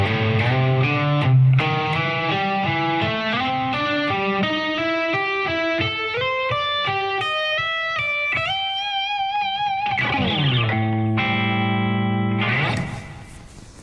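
An electric guitar plays a Dorian fusion lick slowly, with a clean, chorus-tinged tone: a steady run of distinct single notes climbing and shifting, a few held bends near the end, then the sound fades out.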